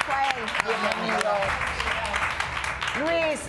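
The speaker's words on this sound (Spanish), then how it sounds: "Un aplauso para Luis." Studio audience on a Spanish-language talk show applauding a guest named Luis: moderate, steady clapping running beneath voices speaking throughout.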